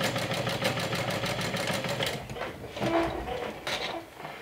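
A sewing machine stitching a bag seam with right sides together, a steady mechanical whirr of fast regular needle strokes that grows looser and more uneven toward the end.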